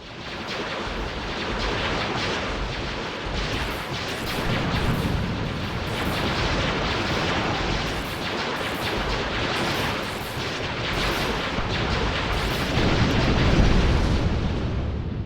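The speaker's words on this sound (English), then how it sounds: "Gun crews fire at will." Sustained artillery fire from gun crews in the space strategy game Star Wars: Ascendancy, a dense, continuous barrage of booming shots and rumbling explosions with rhythmic pulses, loud and steady throughout with no talk.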